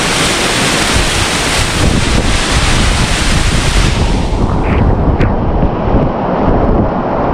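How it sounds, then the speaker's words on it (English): Rushing water roaring from a Bali waterfall, heard from a spot right in the middle of the falls, a loud, constant broadband wash with some wind buffeting on the microphone. "Right in the middle of the waterfall now."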